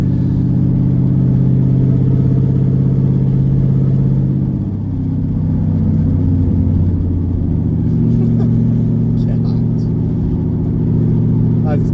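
A straight-piped Chevrolet Camaro with an LS engine and muffler delete, loud low exhaust rumble that dips and swells as it revs, continuous throughout with people talking over it.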